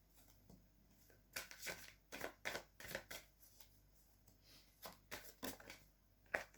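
A deck of cards shuffled for a card reading, with several quick riffling bursts in irregular succession, soft and close in a quiet room, no talk.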